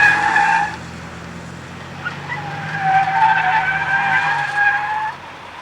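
A race car oversteers on skid-training equipment at a racing school, with tires squealing and skidding in two long bursts under a steady engine drone at moderate distance.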